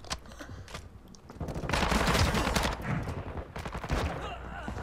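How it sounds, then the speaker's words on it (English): Sustained automatic gunfire from a Call of Duty: Modern Warfare II multiplayer match, dense bursts swelling into a loud continuous stretch midway, then dipping and returning as overlapping rapid shots. "Wow, so many bullets."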